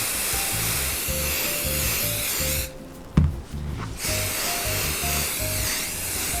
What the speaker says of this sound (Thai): เขย่าขวดสเปรย์ก่อนแล้วก็ฉีด ทั่วคู่ในลักษณะนี้ได้เลยครับ